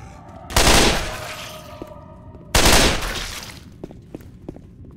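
Two loud, sharp gunfire blasts with long ringing tails from a railgun in the Left 4 Dead 2 video game, a couple of seconds apart, followed by a few small clicks and impacts.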